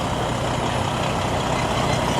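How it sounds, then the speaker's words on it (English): A truck making a wide turn at a water-recycling facility construction site in Playa Del Rey, Los Angeles, a loud, steady engine rumble and broadband road noise filling the scene without pause. "Okay, so this truck is making things difficult for me because he's doing a wide turn."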